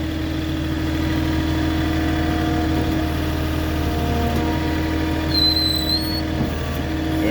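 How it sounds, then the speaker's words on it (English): A forklift engine idles and runs steadily up close while rebar bundles are being delivered, a constant mid-low drone with a brief high whine partway through. "Now what I'm going to do is use the forklift."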